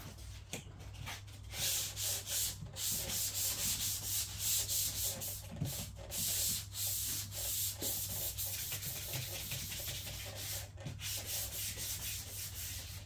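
A golf cart body is hand-sanded before painting, a steady, close scratchy rubbing in rhythmic back-and-forth strokes with brief pauses between passes, heard alone without talk.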